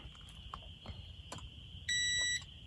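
A steady high-pitched electronic beep from a multimeter continuity test on solar panel frames sounds for about half a second, loud and close, after faint clicks and a constant background whine.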